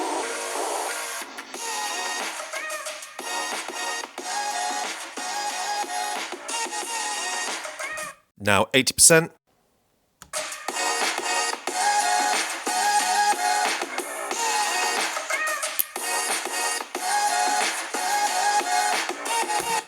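Test audio played at half volume through the down-firing speakers of an Alienware M16 gaming laptop, a steady full-range stream with a brief break in the middle before it resumes.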